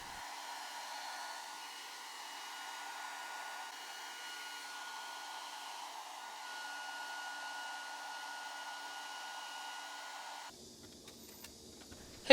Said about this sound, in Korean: 이제 드라이기로 건조를 잘 시켜주면 되는데 적어도 30분 이상 충분히 열을 가해